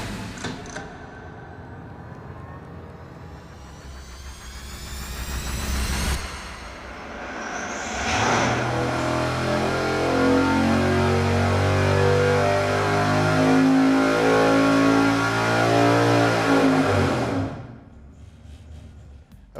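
A carbureted V8 running on E85 fuel on an engine dyno roars loud and close, revving up through a sustained high-load pull before dropping back to idle.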